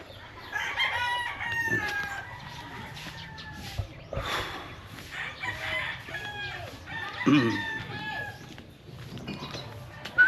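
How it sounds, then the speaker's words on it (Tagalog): Many cockfighting roosters crow over and over in a farmyard, long calls overlapping at varying distances, with occasional clucks and faint background voices. "Maraming manok dyan guys, oh, pang sabong."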